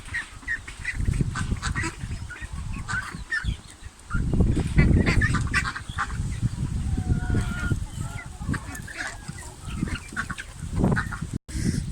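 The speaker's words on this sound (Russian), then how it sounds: "И утки еще здесь тоже." Farmyard ducks and ducklings quack and honk in repeated bursts, close and fairly loud, with scattered chirpy calls over a busy background and no clear talking.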